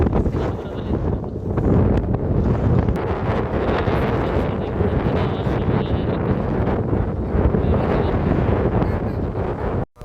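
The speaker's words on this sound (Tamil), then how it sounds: "நல்ல காற்று அடிப்பாங்க." Strong seaside wind at Kanyakumari's Vivekananda Rock Memorial roars steadily across the microphone, loud, continuous buffeting with a faint rustle underneath for about ten seconds.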